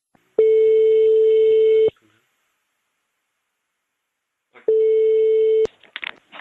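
A telephone handset gives two long, steady electronic tones separated by a silent gap, followed by brief clicks and rustling at the end.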